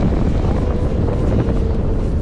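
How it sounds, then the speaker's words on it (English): Strong wind buffeting a microphone at the Energylandia amusement park in winter, a loud, constant low roar that never lets up. "That wind!"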